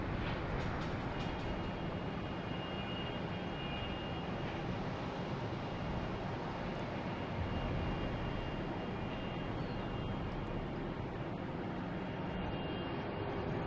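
A JetBlue Airbus A321 on arrival from LAX at Boston Logan roars steadily as a faint, continuous broadband engine rumble that holds level throughout, with no talk.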